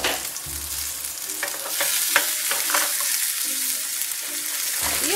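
Dry pasta tipped into a pot of creamy potato soup and stirred, with soft scraping and bubbling simmer sounds close up, rising in bursts and settling into steady stirring.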